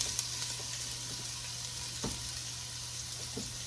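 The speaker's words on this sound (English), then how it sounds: "Go ahead and put in your onions, and what I've got here is equal parts white onion, red onion, and green pepper." Chopped white onion, red onion and green pepper sizzling in a hot oiled pan for an eggplant stew, a steady close frying hiss with a few soft stirring knocks, no voices.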